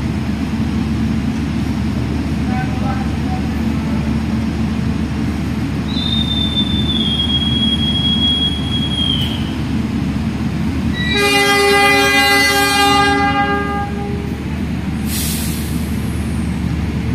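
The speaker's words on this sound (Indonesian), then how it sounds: "kereta Cikuray kembali diberangkatkan ya." The Cikuray passenger train departs on the Bandung–Cibatu Garut line. A loud, continuous rolling rumble carries a thin squealing whistle, then a strong, sustained horn blast sounds near the end, with no talking.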